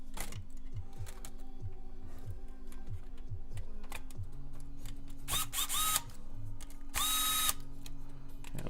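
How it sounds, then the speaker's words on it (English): A small power drill runs in short repeated bursts during an Alienware motherboard repair at a workbench, with brief high whirring spurts and a persistent low hum between them, fairly close. "And I have my speed drill here."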